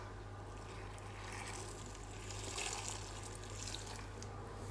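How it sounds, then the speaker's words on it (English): Liquid stock pouring into a soup maker, a steady close watery rush and trickle over a constant low hum. "So I'm just going to add the stock into my mix."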